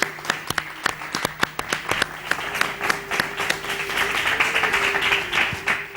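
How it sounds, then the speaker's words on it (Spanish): A studio audience claps to send off a guest at the end of a talk program, starting with distinct sharp individual claps that thicken into a continuous, fairly loud round of applause. "Te despedimos con este aplauso, Francisco."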